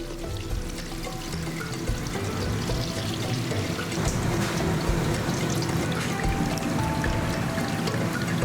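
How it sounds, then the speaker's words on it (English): Liquid pours and trickles continuously as fresh coconut milk and coconut water are squeezed by hand from shredded coconut wrapped in cheesecloth, a close, steady wet streaming with small splashes throughout. "enclose the shredded coconut in cheesecloth and squeeze out the essence along with the coconut water to obtain fresh and luscious coconut milk"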